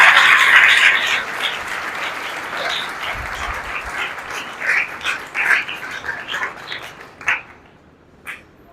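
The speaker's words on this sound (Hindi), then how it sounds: "यीशु के जलाल के लिए जोरदार तालियां बजाएं" A church congregation claps loudly for the glory of Jesus, a dense burst at first that thins into scattered claps, with a few sharp accents near the end.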